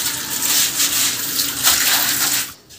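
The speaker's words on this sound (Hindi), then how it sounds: "ये देखें यहाँ से पानी जा रहा है" Water gushes and drains out through a pipe from a kitchen floor, a loud, continuous splashing rush that thins out abruptly near the end.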